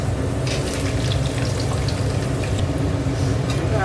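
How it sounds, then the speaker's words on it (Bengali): Potatoes fry in oil in a pan, giving a steady, close, dense sizzle that continues unbroken throughout, with no voices. "এবার আলুটা ভেজে নেব।"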